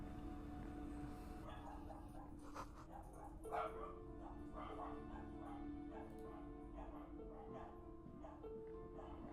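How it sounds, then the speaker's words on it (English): Dogs bark and yip in a video game scene, with several scattered yelps and whimpers faintly under a steady droning ambience. "Let me go check on the dogs."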